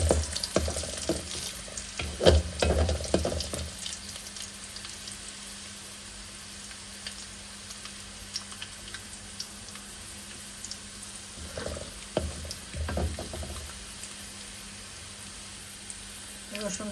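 Chopped garlic and whole cumin seeds fry in oil, a low sizzle with bursts of stirring and scraping early and again near the end, under a quiet voice at times.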